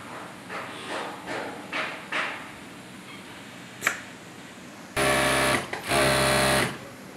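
A flatlock sewing machine, its looper thread tension just tightened, runs fabric through in two quick loud bursts of rapid stitching close by, after softer ticks and taps from handling.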